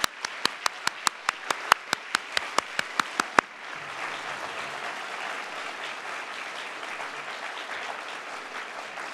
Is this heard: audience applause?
yes